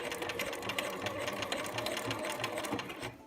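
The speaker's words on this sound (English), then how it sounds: "you'll just sew slow and steady, keeping your fabric butted up against the guide" A sewing machine stitches quilt fabric in a steady, rapid mechanical whir with even needle clatter, moderately quiet and close, running without a break until it slows at the very end.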